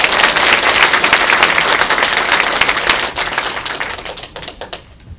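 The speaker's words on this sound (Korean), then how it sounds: "박수 한번 보내주십시오." Audience applause at a candidates' debate on merging Wirye into Songpa, Hanam: dense, steady clapping from a crowd filling the room, holding strong before thinning and fading out near the end.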